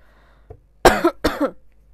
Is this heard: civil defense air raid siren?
no